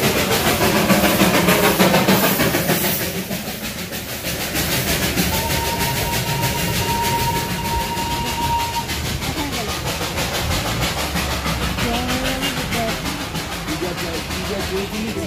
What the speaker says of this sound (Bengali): আর এখানেই কিন্তু দেখা মিলল দার্জিলিং হিমালয়ান ট্রেনের।